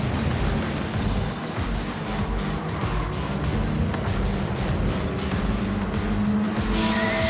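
Race cars roar through a racing video game with engines whining, tires squealing and skidding, a loud, continuous blur of motor noise and screeching rubber without talk.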